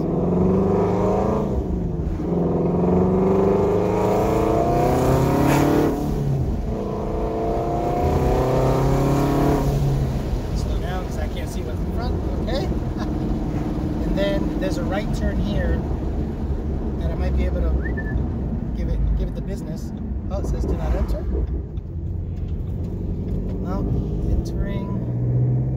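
A twin-turbo Ford Mustang GT350 running on E85 fuel, its engine rumbling and revving steadily throughout, loud and close, with people talking over it for much of the time.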